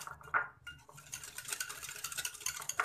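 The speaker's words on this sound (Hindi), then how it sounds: "तो हम विस्क की हेल्प से या आप स्पून की हेल्प से भी इसे मिक्स कर सकते हैं" A whisk or spoon mixing dalgona coffee in a cup or bowl, quick irregular scraping and clinking strokes close up, a brief clink near the start, then a fast steady rhythm, no talking.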